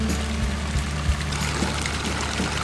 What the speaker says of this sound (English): we are going to stop on the side of the road and fill up the water from a spring